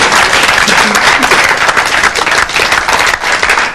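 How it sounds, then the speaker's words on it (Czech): Loud, dense audience applause fills the whole stretch without pause, many hands clapping together in a steady wash close by at a live comedy show. "tak to chce potlesk dědovi"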